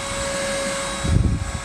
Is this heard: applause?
no